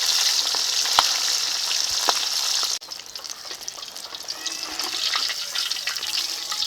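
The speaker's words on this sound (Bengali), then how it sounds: "সিলভার কাপ মাছ ভাজার সময় একটু সাবধানে নাড়তে হবে" Pieces of silver carp fish fry in hot oil as they are turned, a loud steady close sizzle with a few sharp pops, briefly dipping partway through before the crackle builds again.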